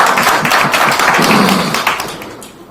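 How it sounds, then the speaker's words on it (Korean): Applause from an audience at a talk where a politician meets young people, a dense, continuous wash of many hands clapping at steady loudness, thinning slightly near the end, with no voices over it. "박수 한번 들어주세요"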